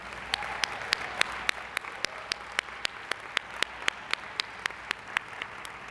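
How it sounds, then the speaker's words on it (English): Students at an academic excellence awards ceremony are applauded with a steady, evenly spaced series of about twenty sharp handclaps, fairly faint, in a quiet room without talking. "Now you may give yourselves a round of applause."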